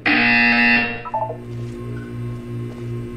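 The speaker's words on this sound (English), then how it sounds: "You will hear a buzzer." A loud, harsh electronic buzzer from the video game Portal 2 blares for under a second, then cuts off, leaving a faint low hum.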